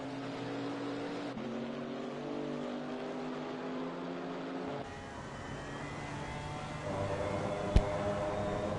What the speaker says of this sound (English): Twin turbo, 3 litre inline 6.